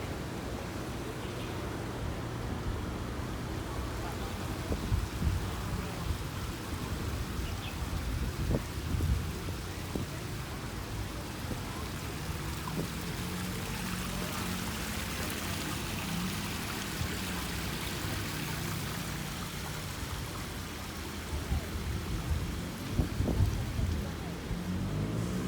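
Water pours steadily down a small irrigation waterfall, a constant broadband rushing and splashing that holds evenly throughout with no breaks.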